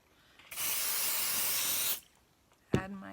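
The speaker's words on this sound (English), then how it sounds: "Add my temporary spray." A single sustained hiss of temporary adhesive spray lasts about one and a half seconds, close and fairly loud, followed by a brief clatter.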